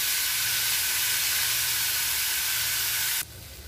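A veg noodles cutlet frying in a pan gives a steady, loud sizzle and hiss that holds evenly, then drops abruptly to a quieter crackle near the end, with no talking.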